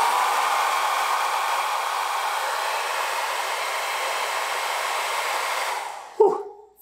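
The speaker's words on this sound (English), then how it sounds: "That's why your hair dryer was at 1500 watts." A 1500-watt hair dryer runs on its high setting with a steady, loud rushing whoosh of air that holds even for about six seconds, then cuts off with a brief click and a fading spin-down.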